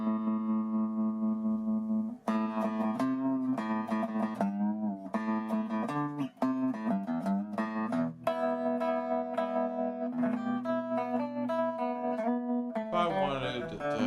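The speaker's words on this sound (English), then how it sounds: "Put a bunch of reverb and some tremolo on it." Electric bass guitar played through an amp, with a bunch of reverb and tremolo added, recorded without a microphone on the amplifier; sustained low notes and plucked phrases ring out alone, with a shimmering, pulsing wash trailing each note.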